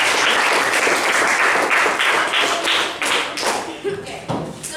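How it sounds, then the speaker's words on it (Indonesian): A classroom of students claps together for a classmate, a dense burst of fast overlapping hand claps that thins toward the end, where a voice and a few scattered claps come through. "Tepuk tangan untuk Said."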